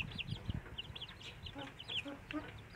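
Young free-range village chicks (ayam kampung) clucking and peeping softly in short, scattered chirps over faint background shuffling, quiet and close.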